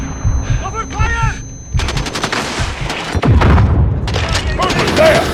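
Dense gunfire from the Modern Warfare video game, with rapid automatic bursts and heavy booming shots stacked together, loud and continuous, while soldiers shout orders over the battle.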